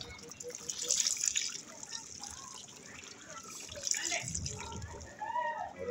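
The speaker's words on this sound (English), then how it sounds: "We're gonna add water to make it tender." Water pours and splashes into a pot of pork being cooked for carnitas, a steady trickling gush heard close with voices talking over it.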